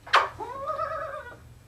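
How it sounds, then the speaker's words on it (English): A cat responding to a yodel gives one short, slightly rising meow after a sharp brief onset sound, close to the microphone, over a faint low hum and otherwise quiet background. "Another cat yodel success."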